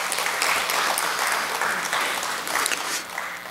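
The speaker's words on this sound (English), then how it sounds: "let's please give them a round of applause" Audience applause at a Ministry of National Security crime prevention public outreach event, a steady crowd clapping that holds for several seconds, fairly loud and close, with no talking over it.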